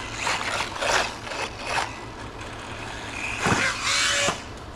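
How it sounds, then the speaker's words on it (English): A brushless Arrma Mojave Grom RC truck, run on 2S, takes a jump at full throttle. Its motor whirs in bursts, followed by a rising whine and a short clatter, close and fairly loud against outdoor noise. "Take the jump and then kind of slam the throttle."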